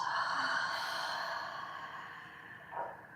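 A long, audible exhale during a yoga class, a soft, breathy sigh that fades gradually over a few seconds, heard close and alone with no talking.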